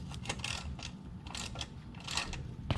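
A ratchet fitted with an 11mm socket clicks steadily while tightening a bolt on a Honda Rebel 500 exhaust, close-up rapid pawl ticks in short strokes.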